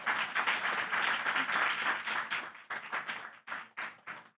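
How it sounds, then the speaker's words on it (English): A room at the Nature Positive Pavilion at COP16 breaks into applause for the piloting companies and SBTN team, steady clapping from a modest crowd that thins into scattered claps before fading out. "Please, a round of applause for everybody."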